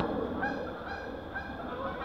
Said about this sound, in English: stagnant pond that hasn't moved in so long, it has geese on it